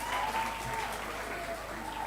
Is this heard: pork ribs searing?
no